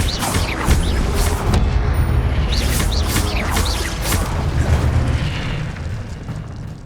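An Incendio fire spell blast in the Hogwarts Legacy video game gives a loud, rumbling fiery burst with crackling bursts layered over it, sustained for several seconds with no talk.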